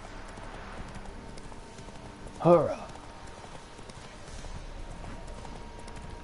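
Hooves of a horse ridden in the video game The Witcher 3: Wild Hunt, a faint steady clip-clop under low ambience, with a brief shouted voice partway through.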